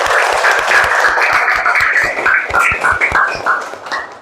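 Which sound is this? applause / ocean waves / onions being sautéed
applause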